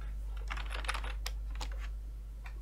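Quick, light keystrokes clatter on a computer keyboard in short irregular bursts, soft and close against a low steady hum, with no voices.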